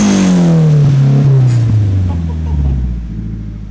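A Cherry hatchback's engine being revved, one loud sweep whose pitch falls as the revs drop back toward idle, with the rumble settling lower near the end; close and prominent, with no speech over it.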